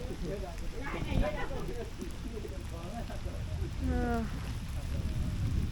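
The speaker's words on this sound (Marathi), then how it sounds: "आणि आता पाऊस थोडा कमी झालाय।" Light rain patters steadily in the Konkan after a downpour eases, a soft continuous hiss under nearby voices talking.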